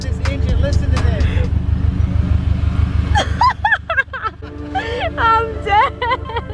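Go-kart engine at a K1 Speed indoor karting track, a loud pulsing, rhythmic drone for about three seconds before fading as people talk and chatter over it.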